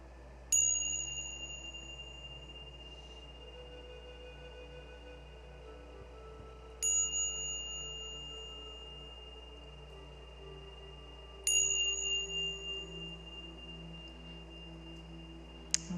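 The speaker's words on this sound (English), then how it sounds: "And so now the bells are going to bring us back into awareness that we're going to return, to come back." Meditation bells strike three times at wide intervals, each a bright, clear ding that rings out and fades slowly over a low, steady hum, with no talking.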